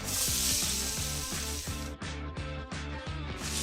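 Onion sizzling in a pot as the base of a one-pot osso buco, a loud steady crackling fry that carries through the whole stretch with no voices over it.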